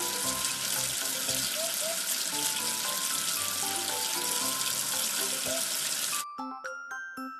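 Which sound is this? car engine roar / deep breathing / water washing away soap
water washing away soap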